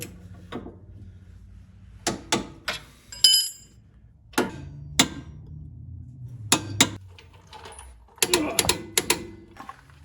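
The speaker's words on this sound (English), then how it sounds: "so we can torque all the bolts" A wrench ratchets as bolts on a Jeep Grand Cherokee lower control arm are torqued, with several bursts of quick clicking and metallic taps separated by pauses, close by and moderately loud.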